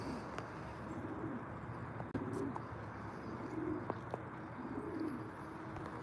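Racing pigeons coo in soft repeated rounds at a loft during training, fairly distant and quiet over a steady outdoor background with a faint knock.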